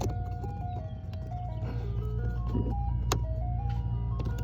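Ice cream truck jingle passing by outside, a tinkling melody stepping up and down clearly over a steady low engine rumble, with a few clicks and knocks close by.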